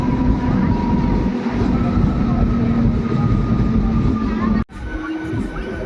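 MEMU electric passenger train departing a small Indian railway station after a brief stop, a loud continuous rumble and motor hum with faint wheel clatter, cut by an abrupt break near the end before the rolling drone resumes.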